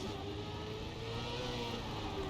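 A car engine in the Trackmania racing game drones and strains on a messy gear change up to fourth, a steady buzzing tone with no talk over it.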